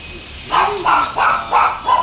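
A blue-eyed, tiger-coated dog at a breeding farm barks five times in a quick, even rhythm, close and loud, after a brief low whine.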